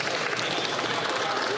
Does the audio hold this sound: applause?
yes